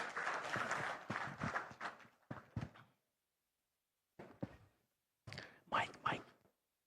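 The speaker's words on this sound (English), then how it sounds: "Can we have a round of applause, please?" Audience applause for a speaker at a digital economy business conference in Bangladesh, a burst of clapping at moderate distance that fades out, then returns in shorter bursts after a pause.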